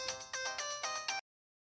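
A phone ringtone plays a bright electronic melody in five quick repeated bursts, loud and close, then cuts off abruptly into silence.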